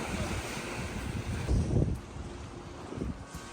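Waves wash onto a beach in Portugal, a steady rushing surf with one swell building and falling, mixed with wind buffeting the microphone.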